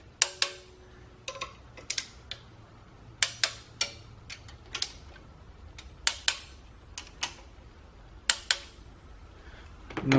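A click-type torque wrench tightening ARP head studs to 15 foot-pounds on a VW Jetta TDI ALH engine during head gasket replacement gives sharp, isolated clicks in uneven clusters, close and crisp over a quiet background.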